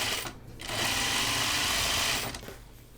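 A home sewing machine runs a 5/8 inch seam allowance for a French seam, with a steady close whirring burst that rises and falls between brief quiet moments, no talking.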